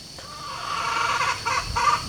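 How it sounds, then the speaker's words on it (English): Chickens cluck and call softly in the background over a steady ambient hiss, a few short bursts close together. "As you can hear the chickens in the background"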